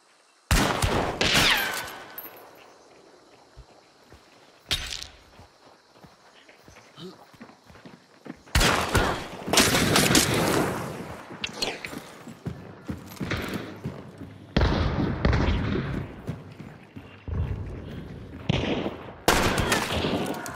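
Gunfire from a multiplayer shooter game, with sharp broadband bursts and rapid volleys of shots at close range. Several loud clusters come between quieter gaps, and faint game sounds fill the background.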